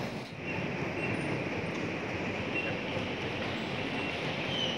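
Airport rail train arriving at Soekarno-Hatta Airport station, a steady low rumble of wheels and motors with faint high squeal, continuous and moderately quiet throughout.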